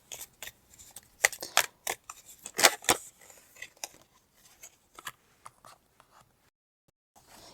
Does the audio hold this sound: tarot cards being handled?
yes